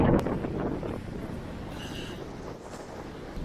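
Steady wind buffets the microphone with a low, rumbling roar, no one speaking.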